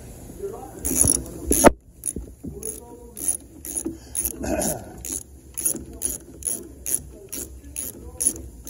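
A ratchet tightens the engine spring mount on a Makita M4 concrete saw during engine mount repair, giving a steady series of sharp, evenly spaced mechanical clicks up close, following a few louder clanks at the start.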